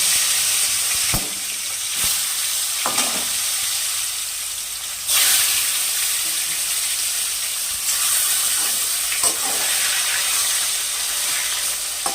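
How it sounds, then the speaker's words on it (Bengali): Fish frying in hot oil in a wok: a loud, continuous sizzle and hiss with sharp spatters and pops bursting out at intervals, heard up close with no talking. "মাছগুলোকে ভালো করে ভেজে নিব"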